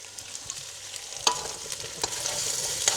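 Potatoes sizzle and crackle in a hot pan with fried vegetables, with a few scraping stirs against the pan along the way.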